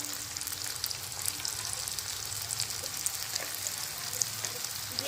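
Veg manchurian fries with soy sauce and spices, giving a soft, even crackling sizzle that holds steady throughout with no voices.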